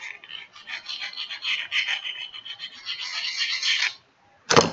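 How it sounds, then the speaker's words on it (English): A slot on a part of an offroad tractor is sanded down by hand, producing repeated close, rough rasping strokes that run for several seconds, then a pause and one short loud scrape. "So I've just sanded down this slot here."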